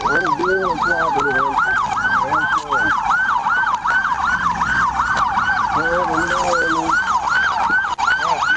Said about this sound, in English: kill those sirens